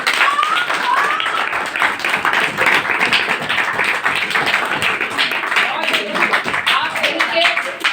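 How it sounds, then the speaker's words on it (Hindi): Loud, continuous clapping from a crowd of students at a school annual day celebration, dense and steady for the full stretch with cheering voices mixed in. "अपने लिए जोरदार तालियां बजा लीजिए"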